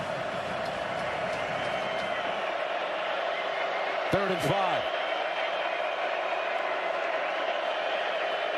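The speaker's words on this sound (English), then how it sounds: "the crowd noise just making it really difficult on this Tech team" Steady roar of a stadium crowd at a Texas Tech vs Utah college football game, continuous and loud behind a commentator's voice, with a brief louder swell midway.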